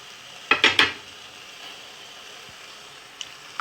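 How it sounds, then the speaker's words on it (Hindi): Chopped onions tip into a pan on a stovetop for homemade tomato ketchup, a quick cluster of three sharp clatters and scrapes of metal followed by a faint sizzle and a couple of small clinks, close with no talk. "अब इसे चूल्हे पे चढ़ाने के बाद इसमें हम प्याज डाल देंगे।"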